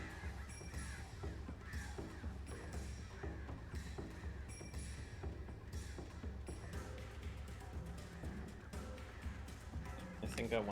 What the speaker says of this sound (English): More birds.